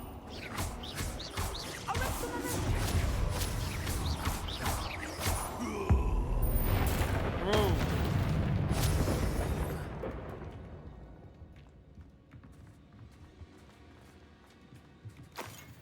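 Spell blasts in the video game Hogwarts Legacy: a dense run of loud, rumbling explosions and crashing bursts that roll on for several seconds and then fade to quieter residual rumble.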